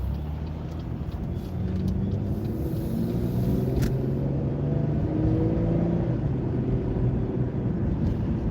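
Heavy road traffic rumbles steadily near a construction zone, a continuous low drone of passing cars and larger vehicles heard from inside a car, with no voices.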